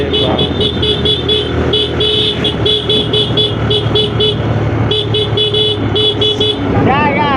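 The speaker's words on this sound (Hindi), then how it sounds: "ये गाड़ी ना ऐसा धुक धुक कर रहा है" A car engine chugs unevenly while its horn gives repeated short toots, loud and close, on a drive near Govardhan Eco Village, with people talking over it.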